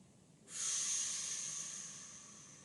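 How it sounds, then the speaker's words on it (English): A slow, deep breath out during a yoga session begins after a short quiet moment and becomes a soft, steady hiss that fades gradually, alone and fairly faint. "Hold at the top. And slow as you can, breathe out."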